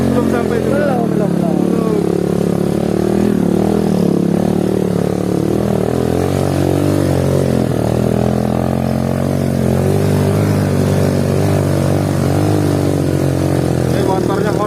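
A Honda Supra Fit motorcycle climbs a hill, its mid-pitched engine droning continuously and loudly, rising and falling slightly with throttle, with voices talking over it throughout.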